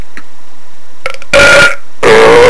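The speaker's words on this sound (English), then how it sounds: "I just want to belch." A drunken belch in a costumed skit after drinking booze, two loud, drawn-out burps with a droning pitch, preceded by a few short throaty sounds, close to the listener with no talk.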